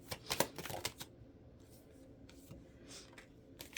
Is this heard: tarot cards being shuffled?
yes